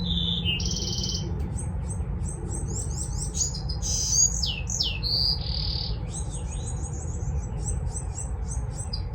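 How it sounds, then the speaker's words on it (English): Birds chirp and trill busily outdoors, a cluster of high calls and short whistles overlapping for several seconds above a steady low rumble of background noise, with no talking. "the birds are really going crazy today"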